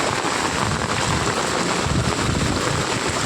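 Dense, continuous hiss of heavy monsoon rain pouring down in Godhra, loud and steady without pause.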